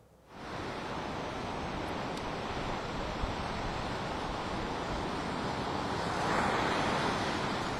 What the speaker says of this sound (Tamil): சென்னை பட்டினப்பாக்கம் பகுதியில் கடல் சீற்றத்துடன் காணப்படுகிறது.